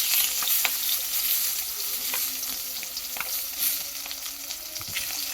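Kalibaus fish fries in oil in a pan, a loud continuous sizzle and crackle with scattered spatters and occasional utensil taps as pieces are moved.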